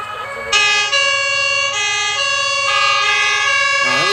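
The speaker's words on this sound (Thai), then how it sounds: "เสียงไซเรนเริ่มเข้ามาหาตัวเรา" A loud, wailing emergency siren holds steady tones, rising and shifting pitch as the vehicle draws near, with a low engine rumble beneath.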